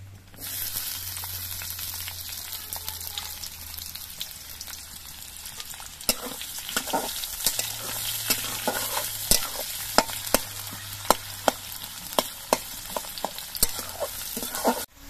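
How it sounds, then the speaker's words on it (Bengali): Thinly sliced onions frying in oil in a pan, a constant crackling sizzle close up, with frequent sharp utensil scrapes and taps growing busier in the second half, no voices. "এই পেঁয়াজগুলো আমি ভেজে নিচ্ছি।"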